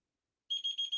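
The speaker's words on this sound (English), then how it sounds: "4 beeps." Four short, evenly spaced electronic alarm beeps during an auction contest, clear and sharp in a quick rhythm after a moment of silence.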